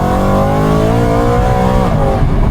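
A tuned 450 bhp BMW M3 E92 with a naturally aspirated V8 revs hard and climbs steadily in pitch toward about 8,000 rpm, loud and close from inside the car, with a brief dip near the end.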